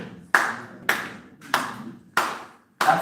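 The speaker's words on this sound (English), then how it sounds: "So this side, you're going to clap like this." Audience at an annual conference clapping a taught beat in unison, five sharp, evenly spaced group claps with short reverberant tails in a large room, no talk over them.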